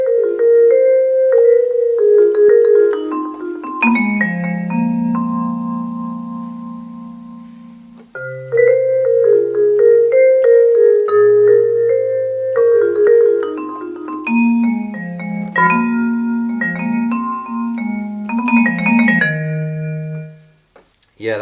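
A Yamaha NP-30 electronic piano plays a mellow, jazzy passage of flowing melody over low chords, loud and close, with phrases pausing briefly around eight and twenty seconds.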